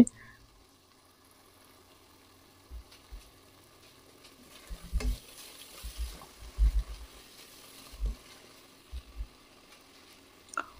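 Spice paste for Bengali chicken kosha sizzles faintly in a pan, broken by soft scraping stirs and low thuds of the spoon against the pan at irregular intervals, with no talking.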